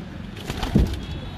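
A Kasuri pigeon gives a single low, throaty coo up close, brief and soft amid faint background rustle, with no speech heard.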